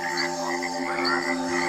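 A cane toad calls with a continuous, droning trill, steady and fairly loud throughout without pause.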